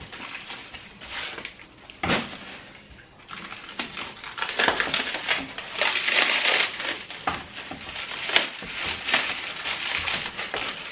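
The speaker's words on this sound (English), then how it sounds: "if you have ever tried to peel a quail egg, that is just nuts" Quail egg shells being cracked and peeled by hand while making pickled eggs, a steady run of close, dry crackling and crunching bursts with brief pauses and no talk.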